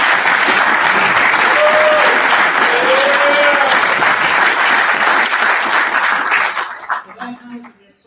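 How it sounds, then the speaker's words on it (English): An audience at a Fort Stewart Career Center graduation applauds the graduating class, steady close clapping with a few whoops rising over it, then tapering off in the last seconds as a voice begins. "let's give this graduating class again a little round of applause"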